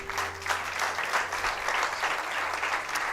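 Steady applause from a church congregation fills the whole stretch, dense and even clapping heard fairly close with no talking over it.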